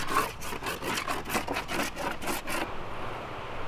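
Wax rubbed by hand across a new surfboard tail pad, giving a run of about ten quick, rhythmic scraping strokes close up that stop abruptly, leaving quiet background noise.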